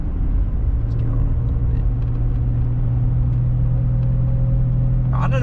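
Car driving along after a spark plug repair, a steady low engine and road rumble running throughout, with a brief sharper rattle near the end.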